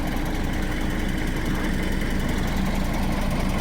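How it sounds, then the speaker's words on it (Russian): An Iveco Eurostar truck's diesel engine idles while warming up on a cold, stormy morning, a steady low rumbling drone that stays constant throughout with no pauses. "Качаем воздух, прогреваем мотор."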